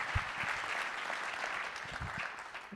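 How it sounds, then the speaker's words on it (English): Soft, fairly distant applause from a conference keynote audience at an undergraduate research event, a steady patter of clapping throughout with a few louder individual claps. "They definitely deserve an applause."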